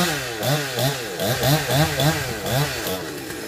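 A chainsaw cuts through a thick rain tree branch, its engine rising and falling in repeated loud surges about every third of a second, close by with no talk over it.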